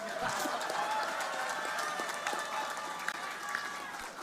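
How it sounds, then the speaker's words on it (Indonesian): An audience at an outdoor public event claps steadily and densely throughout, a continuous patter of applause at moderate distance with a voice over it. "Ayo yang belakang tuh tepuk tangan yang keras."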